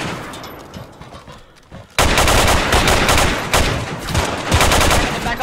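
Rapid gunfire in a mercenary shooter mission against a shotgun enemy, quieter scattered shots at first, then a sudden loud burst of dense, repeated firing that continues close by.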